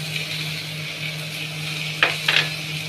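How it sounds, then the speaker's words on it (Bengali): Spice paste for a vegetarian yam curry cooking slowly over low heat in oil, giving a steady soft sizzle with a faint hum, then two brief louder scraping stirs near the end. "কম আঁচ করে করে কষতে কষতে মশলাটা কষা হয়ে গেছে, চারিদিক দিয়ে তেল ছেড়ে আসছে"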